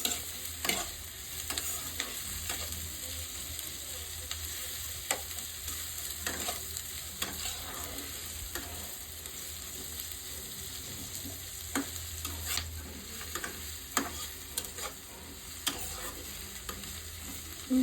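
Browned onion with ground garlic paste fries in a pan, giving a steady soft sizzle while a spoon scrapes and stirs in repeated light strokes, close and low in level.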